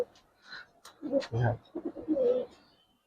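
A silver Giribaz pigeon gives a few soft, close coos in short bursts, with someone speaking nearby.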